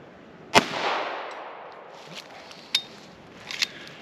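A vintage 1989 Ruger Mark II semi-auto pistol fires .22 LR rounds: one sharp crack with a short echo, then a few fainter, more distant pops spaced apart.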